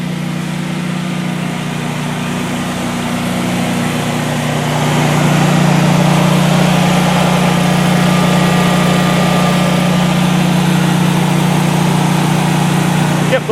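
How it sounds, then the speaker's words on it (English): A home backup generator running after a tropical storm, a steady low engine drone that swells louder partway through and holds constant, heard close with faint voices in the background. "you can hear the generator running right now."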